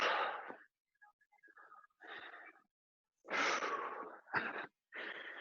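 Heavy, forceful breaths during a hip-forward stretch in a bodyweight workout, coming in several separate bursts of exhaled air with short quiet gaps between them, close to the microphone.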